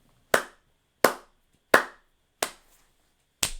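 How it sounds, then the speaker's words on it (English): Five sharp, single hand claps, evenly spaced and close up, each ringing briefly in an otherwise quiet room. "I applaud you."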